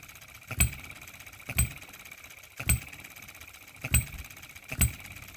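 An OKMO Baker Ball Top Monitor hit-and-miss model gas engine runs alone, its firing strokes landing as sharp, evenly spaced pops about once a second over a low mechanical hum, close and moderately loud.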